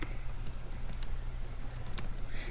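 Rapid, uneven keystrokes on a Windows 10 laptop keyboard form a continuous patter of light, close clicks, with no one talking.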